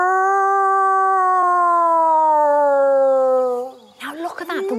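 A man howls to imitate a wolf, holding one long, loud, steady note close by that slowly falls in pitch before breaking off. Brief rustling and noise follow.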